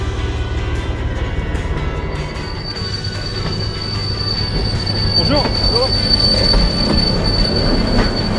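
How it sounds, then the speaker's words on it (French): The Mont Blanc tramway rolling along its mountain rails, a loud continuous rumble with a sustained high metallic wheel squeal that swells and wavers as the train moves. "Voilà, le tramway du Mont Blanc"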